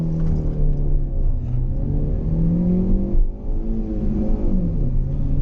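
A Hyundai i20 Sportz hatchback accelerates hard in a 0 to 100 run, its engine note climbing steadily through the gears with brief dips at shifts, loud and continuous from inside the cabin.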